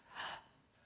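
A single quick, sharp inhale through the nose during a breath of joy breathing exercise, close and fairly soft, followed by quiet.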